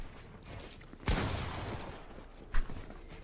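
Gunfire in the video game Fortnite during a 2v2 zone wars match, two sharp bursts of shots a second or so apart against a quieter game background.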